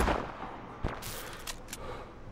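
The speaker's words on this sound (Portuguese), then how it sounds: "EMP Bullet. É um tiro elétrico esse aqui" An EMP sniper round fires in the video game Sniper Ghost Warrior Contracts as one sharp crack, followed by a few quick, hissing electric bursts over a steady, noisy background.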